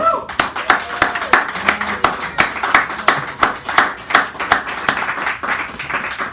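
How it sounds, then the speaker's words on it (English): A small audience at a café poetry hour claps for a poet, with close, loud and distinct individual hand claps in an uneven rhythm and a brief voice at the start. "Give her a round of applause."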